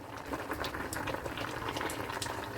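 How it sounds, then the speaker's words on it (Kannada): A pot of sambar broth bubbles at a steady rolling boil, close up, with no talking. "ಸಾರು ಕುದೀತು ನೋಡಿ, ಘಮ ಘಮ ಸಾರು ರೆಡಿ ಆಯಿತು"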